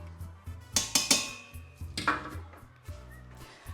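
A utensil clinks and scrapes against a cooking pot while cooked pasta is stirred with a splash of olive oil. The sharp metallic taps and knocks come close together in an irregular rhythm, with no talking.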